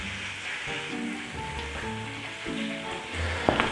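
Cape Cod scallops brown in a hot pan with a steady, close sizzle and crackling spatter, a brief sharper pop near the end.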